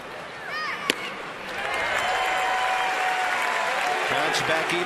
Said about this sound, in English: A sarcastic cheer from the crowd here